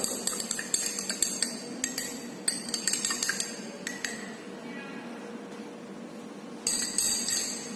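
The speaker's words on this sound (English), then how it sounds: "I am adding the wheat flour and try to stir it" Wheat flour being stirred into water in a glass for a science demonstration: a spoon clinks and taps repeatedly against the glass in quick bursts, pauses in the middle, then rattles again near the end.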